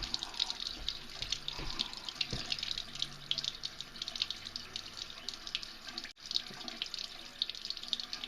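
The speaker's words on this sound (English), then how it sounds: "This is a sink, a bathroom sink. Let's see what it looks like with the hot water on." A bathroom sink tap runs hot water in a steady hiss and splash for several seconds, close to the listener with no talking, then cuts out for an instant before the flow resumes.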